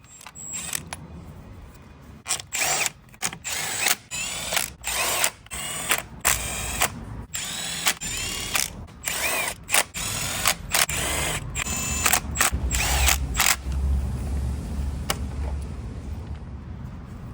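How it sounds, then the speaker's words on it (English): Bolts being run back into the clutch cover of a 1998 Honda VFR800 motorcycle with a power driver, a series of short whirring bursts separated by brief pauses, close and loud, with no talking. "then we can put these bolts back in"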